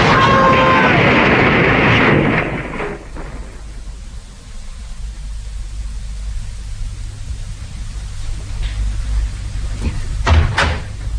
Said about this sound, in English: Must have been quite a spectacular little crash.